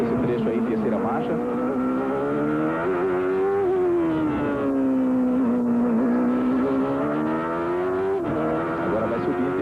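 Onboard engine of a 1993 Indy car at Mid-Ohio held in third gear, a loud continuous high-revving howl rising and falling with throttle through corners, steady and close throughout.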